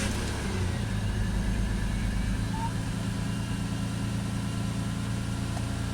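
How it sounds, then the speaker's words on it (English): A cold BMW X5 engine idles with a steady, moderately loud low drone and a faint, slight misfire in the background; no clear start is heard, and no one speaks over it. "First start up, see the car is cold"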